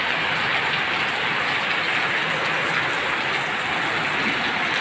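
Heavy rain pours down in Nueva Ecija, Philippines, a dense, loud, unbroken roar of water drumming on surfaces that holds steady throughout.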